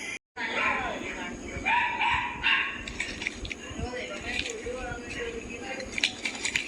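A dog barks repeatedly nearby in a rural outdoor setting, several sharp barks mixed with other animal calls and people talking.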